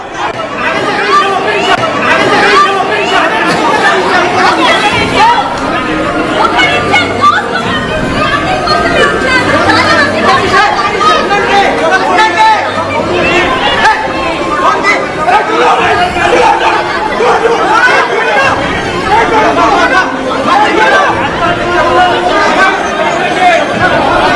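A dense crowd of fans mobs a Bigg Boss 9 contestant, with loud continuous chatter, shouting and overlapping voices close around her throughout.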